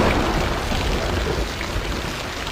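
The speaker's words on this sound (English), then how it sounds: "Hey Peter, Anna, it's raining heavily" Dense, steady rain hisses and patters across a broad wash of noise, loud and unbroken throughout.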